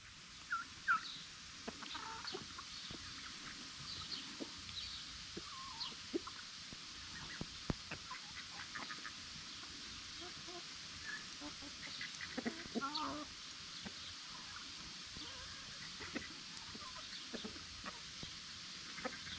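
Young turkeys approaching on a farm, giving soft clucks and small peeping calls scattered throughout, faint and fairly distant over a low, steady background hush.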